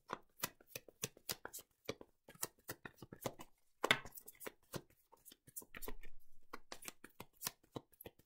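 Tarot cards being shuffled by hand, a rapid run of crisp riffling slaps and flicks with short pauses between bursts, close and fairly quiet, no voices.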